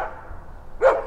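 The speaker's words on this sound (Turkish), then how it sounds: "Hemen dibimizde bir köpek var Melike" A dog barks once nearby, a short sharp yelp near the end after a quiet stretch of faint background, outdoors in a garden at night.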